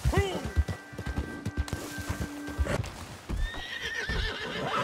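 Horse in the video game Red Dead Redemption 2 whinnying and neighing loudly up close, with clip-clopping hooves and game sounds around it, and a second whinny toward the end.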